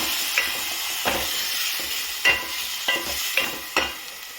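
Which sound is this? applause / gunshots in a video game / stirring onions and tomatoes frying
stirring onions and tomatoes frying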